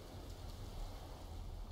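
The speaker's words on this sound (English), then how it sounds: "Nah, it's acid rain." Steady acid rain falling in Empyrion: Galactic Survival, a continuous broadband hiss with a low rumbling undertone, fairly quiet and even throughout with no voices.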